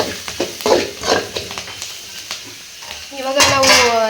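Spices for a dal sambar tempering crackle and sizzle in a hot pan, with intermittent stirring clatter and short bursts of frying hiss, ending in a louder sizzle.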